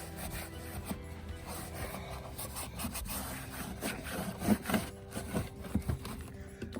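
An old part from a 1987 Pontiac Fiero GT that sat for 15 years being scrubbed, a continuous close, raspy rubbing that builds into a few stronger strokes toward the end, with no talk.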